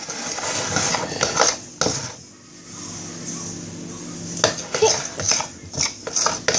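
A utensil scraping and clinking against a bowl while a little water is stirred into a baking mixture, in uneven rhythmic strokes with a brief lull midway, close by.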